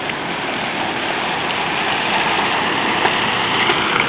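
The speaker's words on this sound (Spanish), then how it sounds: "Miren el agua que se está saliendo de los desumideros por estar full" Floodwater rushes out of overflowing storm drains during a Mississippi River flood in St. Louis, a steady loud broadband roar with no pauses.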